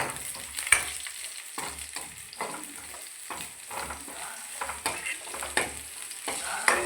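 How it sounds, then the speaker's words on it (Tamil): Onion, garlic and green chillies sauté in a hot pan, with a soft continuous sizzle. A spoon stirs and scrapes against the pan in irregular strokes. No voices. "அது நல்லா வதங்கிடுச்சு வெங்காயம் பூண்டு நல்லா வதங்கிடுச்சு கீரி வச்சுருக்கிற ரெண்டு பச்சை மிளகாயும் போட்டுக்கலாம் போட்டு வதக்கலாம்"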